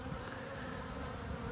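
Honey bees crowd the frames of an observation hive, giving a steady, dense buzzing hum that holds evenly throughout with no voices.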